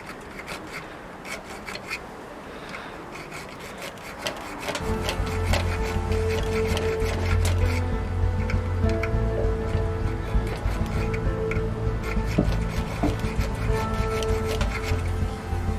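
A small 2 mm file works the front sight of a .38 Smith & Wesson revolver under restoration, with a continuous close rasping scrape that starts softly and grows louder and denser after a few seconds.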